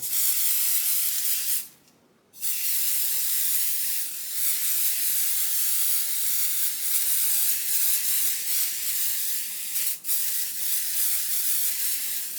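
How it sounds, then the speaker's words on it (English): A pixie spray aerosol can sprays in long steady hissing bursts, close and loud, with one brief pause early on and a quick break near the end. "Get my pixie spray into motion here."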